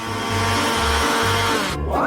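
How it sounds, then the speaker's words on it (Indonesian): A handheld electric mixer whirs steadily through grated cucumber and egg batter, a loud continuous motor drone with a pulsing low rumble as the beaters churn. "Aku akan melakukannya dengan cepat menggunakan mixer tangan ini."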